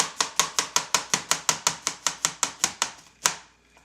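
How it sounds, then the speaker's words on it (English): Knife chopping an onion on a board, about sixteen quick, evenly spaced crisp cuts, close and clear with no talking, ending in one final cut. "now I'm gonna close my eyes and cut the onion"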